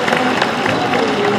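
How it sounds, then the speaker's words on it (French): Brief crowd applause at a pet show, a short burst of clapping with some voices mixed in, loud and close. "Vous applaudissez si vous le supportez."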